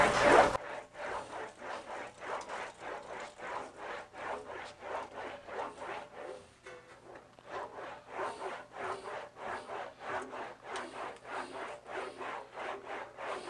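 A metal patch panel for a Scout restoration is rolled back and forth on an English wheel, making a steady rhythmic rasping, rubbing pulse with about two strokes per second, close and moderately loud, briefly softer midway.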